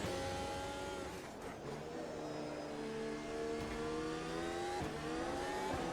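Formula 1 cars race past in a video game around a German Grand Prix circuit, a steady high-pitched engine whine with rising and falling gear sweeps and brief shifts, loud and continuous throughout.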